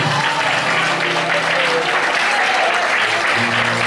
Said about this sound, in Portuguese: Aplauda ele, aplauda ele, aplauda ele.